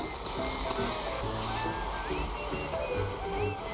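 Thawed frozen seafood and shallots sizzle in hot vegetable oil in a pan, a steady, close, dense hiss and crackle that runs unbroken throughout with faint tonal whines in the background.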